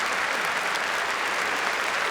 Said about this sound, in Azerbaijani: Lütfen gürültülü alqışlarla qarşılayaq onları.